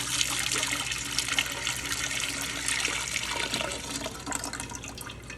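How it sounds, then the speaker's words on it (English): Strained homemade chicken stock pours from a strainer back into a pot, a steady splashing, trickling stream of liquid heard up close for several seconds with no talking. "Let's pour it back into the pot."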